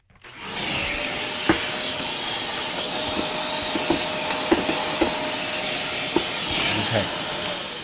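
A vacuum cleaner runs nearby with a continuous loud hiss and a steady motor hum, broken by occasional clicks and knocks as it picks up debris.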